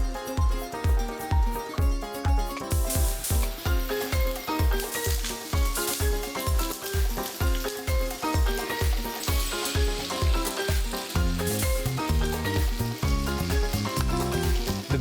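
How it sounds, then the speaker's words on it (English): Steady frying sizzle of beans and spices in a pan, partly masked by loud, rhythmic background music with a regular beat throughout. "you can start off by frying up the beans and the spices."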